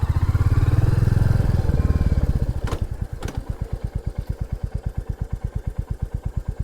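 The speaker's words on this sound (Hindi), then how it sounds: "मैंने खाली रियर ब्रेक मारा, इसीलिए जो इंजन ब्रेकिंग है उसका भी थोड़ा सा आपको हल्का सा साउंड आया होगा" A Royal Enfield Meteor 350 motorcycle engine drops from a loud, revving drone into slow, even putting beats as it engine-brakes, close-up and steady with no talk.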